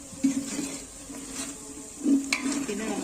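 Turmeric stirred into spices frying in a pan for a large batch of date pickle, a soft scraping stir over low steady sizzling, with a couple of louder spoon strokes.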